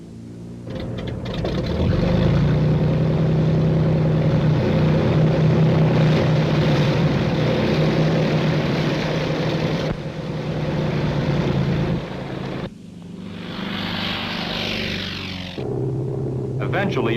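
A T-28 trainer aircraft's propeller engine drones loud and steady, its pitch shifting as it passes, with a voice speaking over the rumble.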